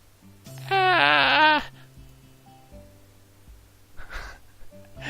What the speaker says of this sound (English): Misha makes a sound vaguely familiar, similar to a dying cow as she realizes her folly